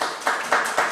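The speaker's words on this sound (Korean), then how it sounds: "박수. 하나님께 박수." A church congregation claps in quick bursts, three sharp pulses of applause in rhythm, close and fairly loud with no voices.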